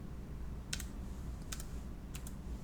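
Quiet computer keyboard key presses of a Shift A shortcut come in three small clusters of close, light clicks, each a quick double tap, over a faint room hiss.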